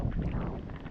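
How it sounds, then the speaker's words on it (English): Strong gusting wind blows on a chilly autumn walk outdoors in Maine, striking the microphone as a steady, close, rumbling roar that fills the whole second. "It's still gusting."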